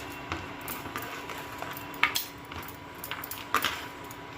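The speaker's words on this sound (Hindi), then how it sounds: "अब डालते हैं मिक्सी जार में इसको" Cooked saag being scooped into a mixer jar: light clinks and scrapes of a spoon against the jar, with a few sharper taps, soft and close.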